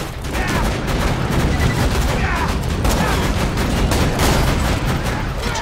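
A sentry turret in Borderlands 2 fires rapid, continuous bursts, a loud dense stream of shots packed over constant battle noise with no pause.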